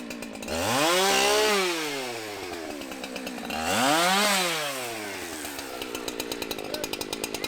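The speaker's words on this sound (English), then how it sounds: "they show up in the truck, chainsaws going, and they just started clearing off the branches" Chainsaws cut tree branches near an RV, rising to two loud revving bursts with an idle between them, then a rough uneven putter of the engine.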